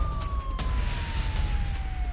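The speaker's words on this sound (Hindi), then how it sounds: "अटैक के बाद सायरन बजे हैं।" A loud siren wails continuously near the Gaza border after a rocket attack in Israel, its tone sliding slowly downward over a rumbling background with a few sharp bursts of noise.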